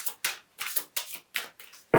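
Tarot cards being shuffled by hand, about six quick crisp riffles in a steady rhythm, close and clear, each burst a short papery flutter followed by brief silence.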